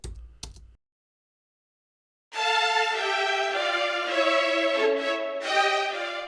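Orchestral violins playing a line in thirds doubled at the octave, a sustained bright bowed passage that enters after a short silence and holds steadily to the end.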